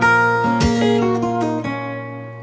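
Fingerpicked acoustic guitar plays a single bar of an advanced pattern, several plucked notes ringing over a held low bass tone, then decaying into sustain.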